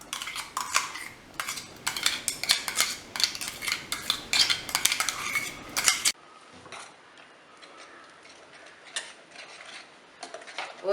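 Fruit payasam of mango, jackfruit and banana being stirred in a pot, with a ladle scraping and clinking against the metal in a busy, irregular run that stops abruptly midway, leaving faint sparse taps.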